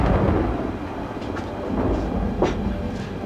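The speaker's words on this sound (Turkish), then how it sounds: "Şu yağmur gök gürültüsü bitsin hemen." Deep rolling thunder during a rainstorm, a loud continuous rumble with a few sharper cracks standing out, heard alone without voices.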